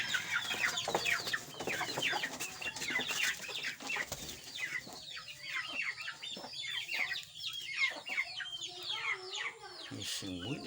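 Hens and chickens cluck repeatedly on a rural village farm, a hen wanting to lay an egg near its nest; busy, close clucking calls overlap continuously with faint background fowl noise.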